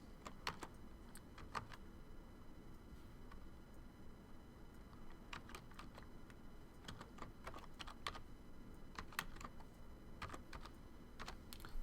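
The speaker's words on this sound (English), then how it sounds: "as I was typing" Quiet typing on a computer keyboard while working in InDesign, soft irregular key taps arriving in small bursts with pauses, close but low in level over a faint steady room hiss, no talking.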